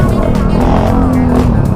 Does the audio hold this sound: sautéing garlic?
no